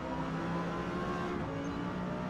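A Lexus LFA race car in Forza Motorsport, running in S class at Silverstone, holds a steady, loud engine drone with dense harmonics for the full stretch, close and continuous with no talk over it.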